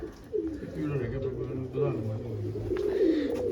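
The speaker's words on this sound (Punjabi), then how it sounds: "ਇਹ ਜੇ ਇੱਕ ਕਬੂਤਰੀ ਹੈ ਬਈ" A female pigeon, one of a fancier's large pigeons, coos in steady, close, rolling calls that repeat throughout, with faint background sounds around it.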